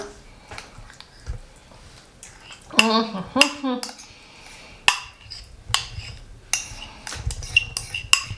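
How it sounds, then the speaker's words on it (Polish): A spoon mixing pudding ingredients in a bowl, including lemon juice and banana, with irregular clinks and scrapes of metal against the dish, some sharp knocks, close by and without talk. "Wszystko razem mieszamy"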